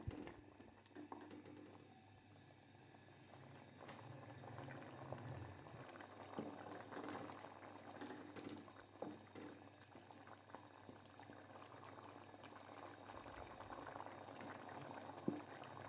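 A pot of mutton korma simmers with a faint, steady bubbling and gentle popping as its water cooks off, continuing throughout, with no voices.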